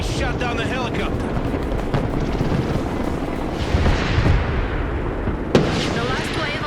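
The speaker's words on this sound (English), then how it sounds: "they shot down the helicopter" Helicopter in the Broken Arrow video game battle, a dense rotor roar mixed with gunfire and explosions, loud and continuous, with a sharp blast near the end.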